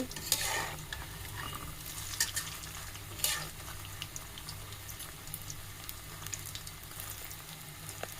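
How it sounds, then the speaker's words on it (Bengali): Cabbage and noodle pakoras deep frying in oil give a steady, moderate crackle and bubble throughout, with a few sharper clinks of a utensil near the start and middle. "এখন আরও লাল করে মুচমুচে করে ভেজে নিব"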